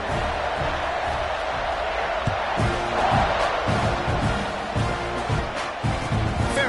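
A stadium crowd in the College Football 26 video game roars steadily throughout a South Carolina versus Texas A&M matchup, a dense continuous wash of cheering with rhythmic thumps beneath it, loud and sustained.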